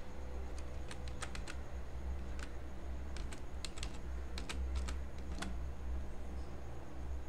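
Keys clacking steadily on a computer keyboard while a search term is entered, with irregular bursts of taps over a constant low fan-like hum; no speech.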